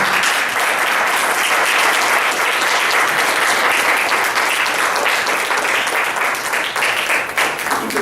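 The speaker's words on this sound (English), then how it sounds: "Keep the round of applause going." Sustained, dense applause from a live audience after a storytelling speech, loud and steady throughout with no break, a bright wash of many hands clapping at once.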